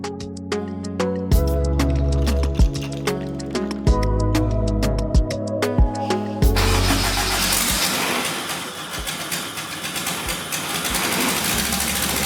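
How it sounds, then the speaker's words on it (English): A Mazda RX-7 engine on a standalone ECU cranks and catches, then runs unevenly, sputtering and misfiring over a loud, rough idle, with no talking. "The engine ran, but ran terribly."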